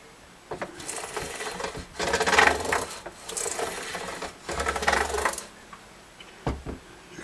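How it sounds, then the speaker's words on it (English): Sandpaper rubs back and forth across the frets of a guitar neck during fret dressing, several scratchy bursts of strokes separated by short pauses, close and moderately loud. "this sandpaper is hitting every fret, all the way across every fret."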